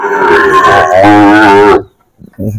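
A loud, long moo from a Sahiwal bull calf close by, followed by a brief pause and the start of another low call.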